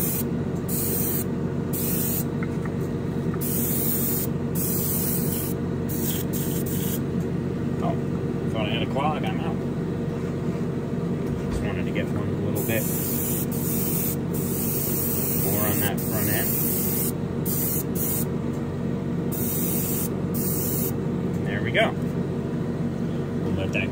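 An airbrush or spray gun applies primer to a Ferrari SF90 Spider scale model body. A steady close hiss runs throughout, stopping and starting in short bursts over a constant compressor hum.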